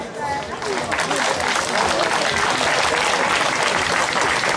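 A crowd at a landscape marathon event bursts into loud, sustained applause for a birthday, dense clapping filling the whole stretch with a few voices mixed in.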